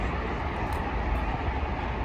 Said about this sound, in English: That's the train line you can hear rushing through over there.